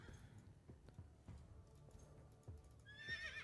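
Horses in the strategy game Eyes of War neigh and whinny faintly amid soft hoof clops and low battle ambience, a clearer whinny rising near the end.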